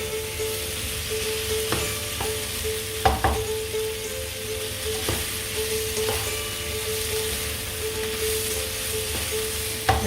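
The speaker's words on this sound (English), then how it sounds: "stir fry for just about a minute or so" Leftover pasta is stir-fried in a hot pan, a steady close sizzle broken by a few sharp scrapes and clanks of the utensil against the pan, with no voices.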